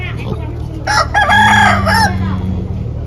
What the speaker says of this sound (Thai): ไก่เพิ่นก็หลายได้นี่